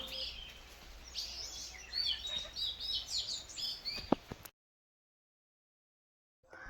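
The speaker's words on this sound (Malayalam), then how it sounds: "ഒരുപാട് കിളികളുടെ സൗണ്ട് ഇങ്ങനെ വെറുതെ നോക്കിയിരിക്കാൻ ഒരു പ്രത്യേക രസമാണ്" Many birds chirp and tweet together in quick, overlapping calls for a few seconds. Then the sound cuts to silence, and faint chirping returns at the end.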